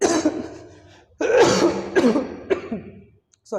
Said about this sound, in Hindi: पिछले 2-3 दिन से ये दिक्कत हो रही है खांसने छींकने वाली।